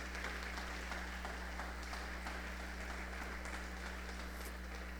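Church congregation applauding for the King during a Spanish-language sermon, a steady wash of many hands clapping at moderate distance over a low constant hum, sustained evenly throughout without a voice.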